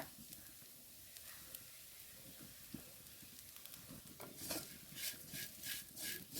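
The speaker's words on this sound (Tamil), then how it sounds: "தேங்காய் சேர்த்து நல்லா பரட்டி விடுங்க" Grated coconut being stirred into spinach stems in a pan, giving soft scraping and clinking of a spoon against metal with light sizzling, the strokes growing louder and more distinct toward the end.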